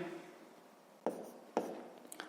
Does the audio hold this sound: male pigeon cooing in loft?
no